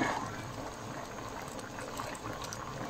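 Pork caldereta with peanut and peanut butter simmers in a pot, a steady close bubbling and gurgling boil that holds evenly throughout with no voices.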